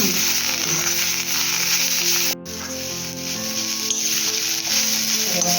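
Onion frying in oil until brown, a close, steady hissing sizzle with occasional stirring, a brief sharp clack midway, and no speech.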